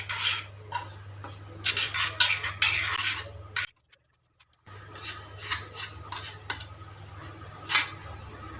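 Spoon scraping and rasping against a container as milk powder is stirred into raw milk, steady for several seconds, a brief pause, then more stirring strokes.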